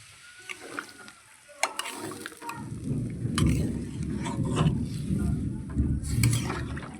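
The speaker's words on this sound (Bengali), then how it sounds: "এবার দিয়ে দিচ্ছি কিছুটা জল, যাতে কাঁঠালের বীজ, আলু, পটল এগুলো সিদ্ধ হয়।" Water goes into a pan of jackfruit seeds, potato and pointed gourd being cooked, then a steady bubbling, simmering sizzle follows, with a few sharp utensil clinks over the low boil.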